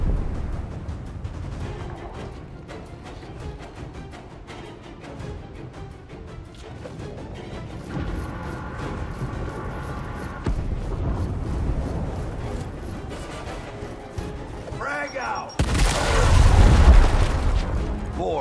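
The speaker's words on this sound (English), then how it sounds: "Clear him out with a frag grenade!" A frag grenade goes off in Gears Tactics: a heavy, loud boom bursts out near the end after a stretch of rumbling battle ambience and mechanical noise, with brief voices earlier.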